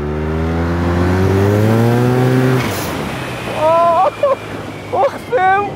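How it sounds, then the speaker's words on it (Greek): A turbocharged Yamaha TMax maxi-scooter engine of about 100 horsepower revs loudly with a rising, buzzy tone, then cuts off, followed by excited voices. "Ακούστε καταρχάς πως κάνει το μηχανάκι."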